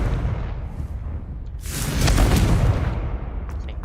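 A fiery burst and rumbling blast from the Confringo fire spell in Hogwarts Legacy, swelling loudly midway after a quieter rumble, then trailing off.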